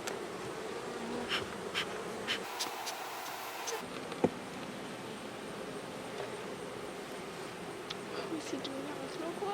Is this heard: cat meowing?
no